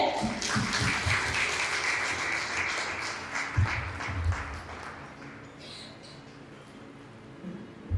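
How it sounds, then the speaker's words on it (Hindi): A church congregation applauds a reverend with dense, steady clapping that gradually thins and fades, with a few voices faintly mixed in. "उनके लिए भी हम तालियां बजाएं"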